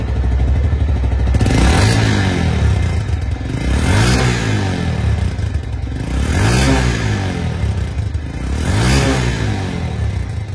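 A used Metro Plus motorcycle runs steadily close up. Its loud engine rises and falls in four even, rhythmic revving swells, with no talk over it.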